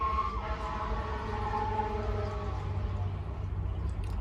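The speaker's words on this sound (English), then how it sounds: "the sirens are going off" A siren drones steadily, its long held tone sliding slowly lower and fading over a low background rumble.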